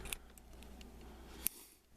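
A pair of small scissors is handled quietly up close, with soft metallic ticks and one sharp click partway through against a faint background hiss.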